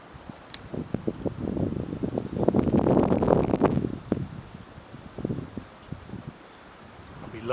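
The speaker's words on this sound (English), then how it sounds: "Wind's blowing about 30 miles an hour." Strong wind blowing at about 30 miles an hour during a hard front while fishing, a steady rushing roar buffeting the microphone with rustling gusts and occasional faint clicks.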